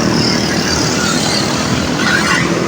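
Road traffic on a Philippine highway near Capas, heard from the roadside: a loud, continuous wash of engine and tire noise from passing cars and motorcycles, with no speech over it.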